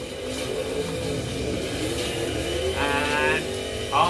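A dune buggy engine revs continuously in an Xbox racing game, droning steadily at mid volume with pitch swings near the end.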